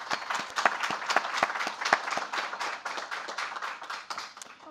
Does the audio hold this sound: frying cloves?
no